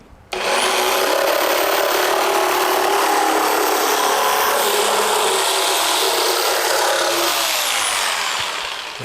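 Kress KU462 650W electric jigsaw cutting a tight curve in wood with a thin blade, a loud, steady buzzing saw roar running nearly nine seconds after an abrupt start, then tapering slightly at the end.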